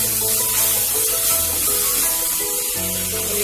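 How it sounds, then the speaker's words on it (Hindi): Green peas frying in oil-rich masala, a loud continuous sizzle with spoon scrapes as they are stirred, no talking. "अब इसमें ये मटर लगभग आधा मिनट के लिए फ्राई करते हैं।"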